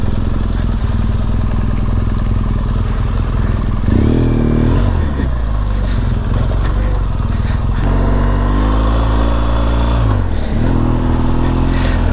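BMW GS 1200 motorcycle ridden rally-style, its engine droning steadily and close, with two distinct rises and falls in revs as the rider throttles up and eases off, plus rattling and wind buffeting throughout.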